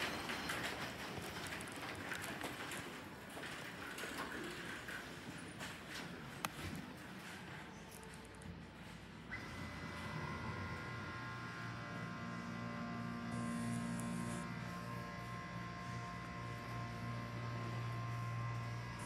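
A 2003 Schindler 330A hydraulic elevator motor runs in the machine room at Belk, Coastal Grand Mall. Faint noise comes first, then a steady low humming drone with an even tone starts about halfway through and holds.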